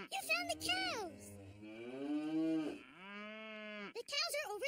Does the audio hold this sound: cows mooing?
yes